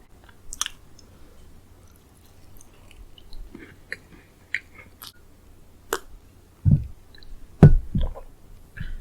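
Golden Oreo cookies are bitten and chewed close to the mouth, with scattered wet clicks and soft squishes building to a few louder crunchy bites near the end, no talking.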